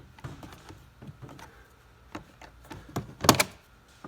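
A flat screwdriver pries a door trim panel loose beside the door switches of a 2017 Chevy Cruze, giving scattered quiet plastic clicks and taps, then one sharp snapping pop near the end.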